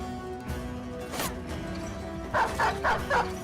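Dogs bark in quick repeated bursts in the medieval tactics game Battle Brothers, four sharp yaps near the end over steady battle ambience, with an earlier bark or two.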